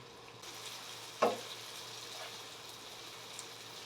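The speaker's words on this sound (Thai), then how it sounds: "เราก็จะทอดเต้าหู้ของเราไปค่ะ" Tofu frying in hot oil for a Thai vegetarian red-curry stir-fry gives a soft, steady sizzle with one louder crackling burst near the start, close by and with no talk.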